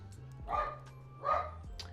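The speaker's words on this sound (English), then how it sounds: "Just like my dog Echo struggles with not barking at every single person that walks by the house" A dog barks twice at moderate distance, two spaced woofs with a softer yip at the end, under a low steady indoor hum.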